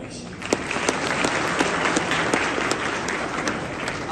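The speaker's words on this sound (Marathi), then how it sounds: "विद्यार्थी मित्रांनो आपण कोरे सरांसाठी टाळ्या वाजवतो" Students at a packed local gathering applaud for Kore sir, a dense sustained round of clapping with individual sharp claps standing out, filling the whole stretch.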